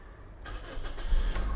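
A Toyota Corolla Altis 1.6 E automatic engine cranks and catches, rising from quiet into a low, steady rumble as it settles toward idle, close by.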